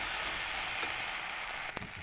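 Ginger-garlic paste sautéing in a pan for aloo dum, a steady broadband sizzle throughout with a brief stir or clink near the end, no voices.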